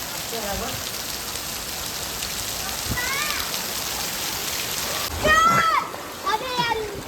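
Steady rain falling and rainwater pouring into a water tank, a continuous dense hiss with splashing, while children's voices rise and chatter over it at moments.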